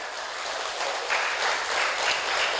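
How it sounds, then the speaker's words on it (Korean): An indoor audience at a product presentation claps together in dense, even applause that holds steady and loud for a few seconds without any voices. "그래서 드시고 계시는 분들 박수 한번 주실까요?"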